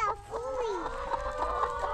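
Chickens on a ranch cluck and squawk close by, a busy run of overlapping calls with a low rumble of background noise.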